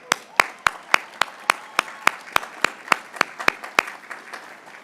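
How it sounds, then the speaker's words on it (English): Graduates at a Bowdoin College commencement applaud themselves, heard as a steady run of sharp, evenly spaced claps over a softer bed of scattered crowd clapping, close and moderately loud for about five seconds. "Give yourself a round of applause."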